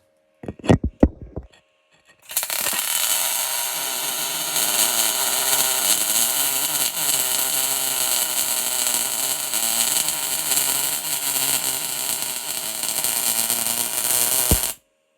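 MIG welding a seam on aluminium with a Spika Multi GMAW 250S welder: after a few brief starting pops, a loud continuous hissing, crackling arc buzz runs steadily for about twelve seconds, then cuts off abruptly.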